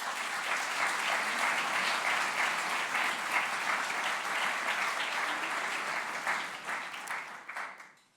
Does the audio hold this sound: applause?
yes